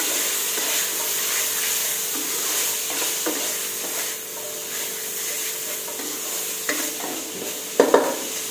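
Pork with chili curry paste and long beans stir-frying in a pan, a steady broadband sizzle with soft scraping stirs and a few louder clatters near the end, close and without talk.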